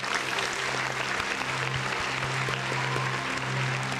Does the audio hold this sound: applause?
yes